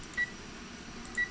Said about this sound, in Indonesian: Terus telepon lagi sampai diangkat.